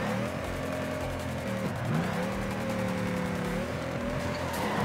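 A Dodge Viper drift car in the racing video game Torque Drift revs hard in fourth gear on the Big M track, its engine droning continuously with pitch dips and climbs as it shifts and slides, steady and loud throughout.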